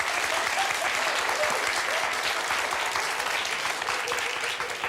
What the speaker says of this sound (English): I was just watching how many guys were clapping.